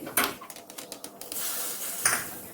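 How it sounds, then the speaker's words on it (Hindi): A few light metallic clinks of a utensil against a pan give way to a sudden, sustained hiss as a hot mustard-seed tempering is poured over onion pickle. The hiss stays close and steady, and no one speaks. "अब इस तड़के को अचार के ऊपर डालेंगे"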